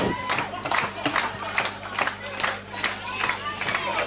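A wrestling crowd rallies behind Stevie James with rhythmic clapping and shouts, a busy arena roar with sharp claps punctuating it and a commentator talking over it.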